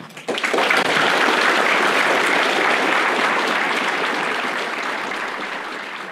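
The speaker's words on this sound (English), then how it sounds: "I would like you to applaud yourselves" Convention attendees at Eurofurence burst into loud, sustained applause after a talk, a thick wash of clapping starting abruptly and holding steady, easing slightly near the end.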